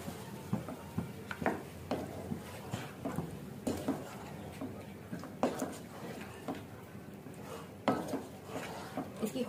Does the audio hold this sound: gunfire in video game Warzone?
no